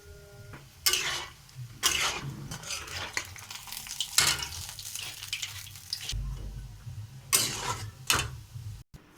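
Palm fruit fritters (tal bora) frying in hot oil give a continuous bubbling sizzle. Loud metallic scrapes and clanks from a spatula or slotted spoon against the pan come in repeated bursts.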